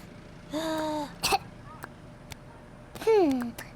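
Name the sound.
child coughing in cartoon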